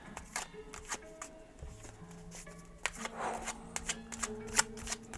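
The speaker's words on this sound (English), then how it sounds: "I'm actually going to pull another tarot card" Tarot cards being shuffled by hand in a series of quick, papery riffles and slaps, with a low steady hum in the background and no one talking.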